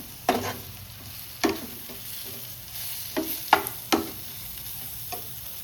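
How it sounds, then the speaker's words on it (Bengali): Spices fry in a pan with a low sizzle while a utensil scrapes and clanks against the metal in irregular strokes, several distinct knocks over a steady frying hiss. "একটু জল দিয়ে দিচ্ছি এর মধ্যে, একদম সামান্য, এই অল্প দিলাম, যাতে মশলাটা পুড়ে না যায়"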